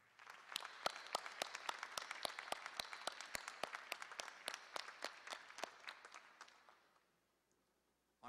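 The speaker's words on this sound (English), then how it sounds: "one more round of applause for the members of the Shepard family" Applause for the Shepard family at a Founder's Day Society of Golden Eagles induction, a faint crowd clapping steadily for several seconds before fading out to near silence.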